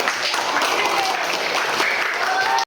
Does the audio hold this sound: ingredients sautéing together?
no